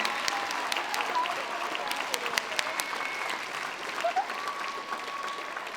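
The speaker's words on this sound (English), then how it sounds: "let's give them a huge round of applause for them." Audience applause at a middle school beginning band spring concert, a steady wash of many hands clapping from a large crowd in a hall. It runs continuously at moderate level, with no talk over it.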